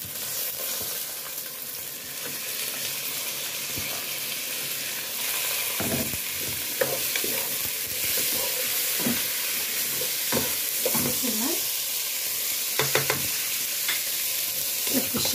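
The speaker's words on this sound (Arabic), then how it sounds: "الشعريه وهي بتتحمر" Vermicelli and rice fry in a pan as a spoon stirs them, a continuous close sizzle broken by scraping stirs and small clinks throughout, with no talk.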